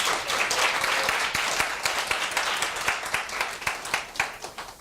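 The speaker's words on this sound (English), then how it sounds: "Can we give them a round of applause?" A conference audience claps together after a speaker's thanks. The dense applause starts loud and steady, then thins into scattered individual claps as it dies away.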